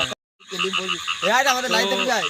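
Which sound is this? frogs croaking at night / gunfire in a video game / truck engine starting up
frogs croaking at night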